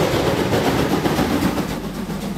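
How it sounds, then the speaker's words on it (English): Loud, dense rumbling of a train in motion with a steady chugging roar, close and continuous for a few seconds. "Steam locomotive."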